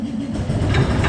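A 1959 BMW 600 limousine engine starting on full choke, a short low mechanical rumble that builds in loudness as it catches and begins to run.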